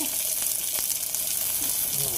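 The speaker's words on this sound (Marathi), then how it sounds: "त्याला चांगलं तेल टाकून भाजायचं काम चालू आहे." Green chilies and garlic fry in oil in a kadhai for spicy thecha, a continuous close sizzle with faint scraping stirs, steady throughout and partly under a soft voice.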